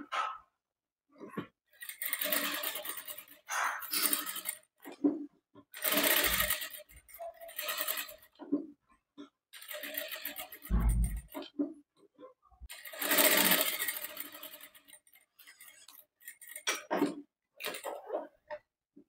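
Sewing machine stitching along the canvas edge of a boatneck blouse, a series of short, close motor bursts starting and stopping irregularly, with quiet gaps between runs.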